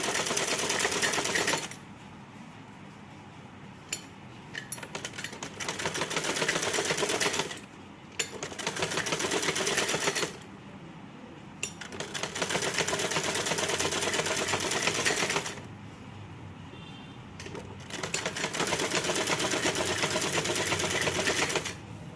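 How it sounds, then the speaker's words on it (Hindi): A sewing machine stitches simple plain piping onto a blouse, whirring in four steady bursts of a few seconds each, separated by short quiet pauses, close and fairly loud with no talking. "इस तरह से इसको सिलाई लगाते जाएंगे पूरा।"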